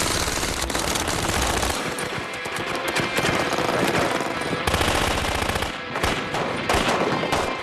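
An IAR automatic rifle loaded with standard 5.56 magazines rips through loud, sustained bursts of rapid fire, the shots blurring into a continuous roar with brief breaks between strings.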